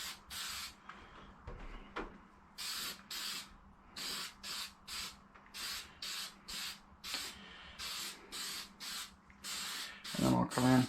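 Short bursts of spray paint hiss in repeated, even passes as a first light coat goes onto an RC car body, the Traxxas Drag Slash, with brief pauses between strokes and some handling noise near the end.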